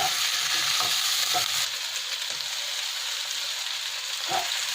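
Capsicum and onion frying in a hot pan for chilli chicken, a steady close sizzle with a few scraping stirs of a spatula throughout.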